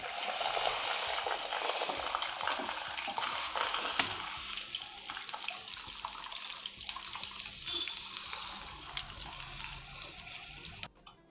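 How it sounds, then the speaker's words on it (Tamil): Tamarind water poured into a hot pan, a loud rushing pour with bubbling sizzle that eases into quieter simmering crackles before stopping abruptly, no voices. "புளி ஜலத்தை இதில் விட்டுடலாம்."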